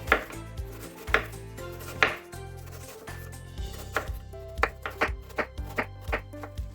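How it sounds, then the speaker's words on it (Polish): A knife cuts peeled apples into thin slices on a board, giving sharp close taps at first spaced out, then quicker regular chops for an apple tart. "Umyte jabłka obieramy, kroimy na pół, potem na ćwiartki, a później na cienkie plastry."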